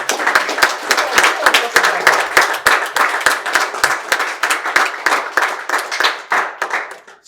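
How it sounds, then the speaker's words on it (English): A small group at a debate claps in a steady, brisk rhythm, the applause rising and holding before tapering off at the end. "A big round of applause."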